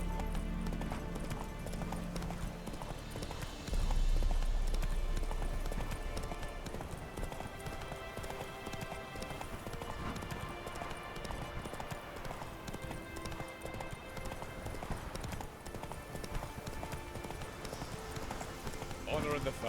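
A horse gallops in The Witcher 3: Wild Hunt, with a steady rapid clip-clop of hooves running throughout under a constant bed of game ambience and voices.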